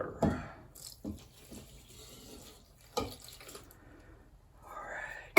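Water poured for a venison summer sausage cure, running in a fairly steady wash for several seconds with brief splashy bursts, close and moderately loud, with no talking.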